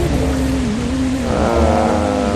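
Steady rain in the Truckers of Europe 3 driving game falls during a truck wash, a dense, loud continuous hiss layered with a low engine drone and a gliding tonal hum.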